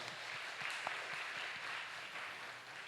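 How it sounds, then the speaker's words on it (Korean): Steady applause from a church congregation during a Sunday service, a dense wash of clapping that holds evenly throughout, with no voices over it. "격려의 박수 주시면 감사하겠습니다"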